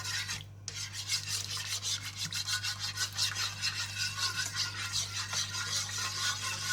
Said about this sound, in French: je vais prendre un fouet et je vais la mélanger